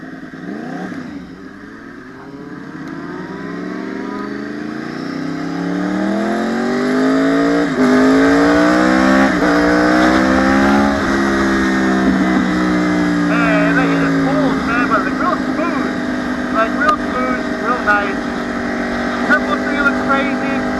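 A 2014 Yamaha YZF-R1 1000cc supersport motorcycle engine revs up in rising, sweeping tones, then holds a loud, steady drone close by, with a rider talking over it.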